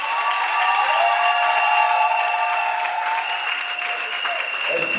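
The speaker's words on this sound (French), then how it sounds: "Applaudissements pour le couple" Applause for the couple at a Gabonese wedding evening party: steady, dense clapping from the guests blended with sustained music and tones, with a voice briefly audible over it.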